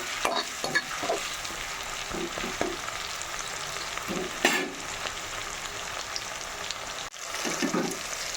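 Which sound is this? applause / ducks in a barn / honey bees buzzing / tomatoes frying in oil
tomatoes frying in oil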